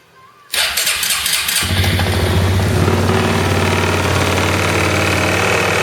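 A Suzuki Quadsport Z250 quad's engine cranks and catches after a moment of quiet, then settles into a loud, steady, close-up idle with a rapid, even putter.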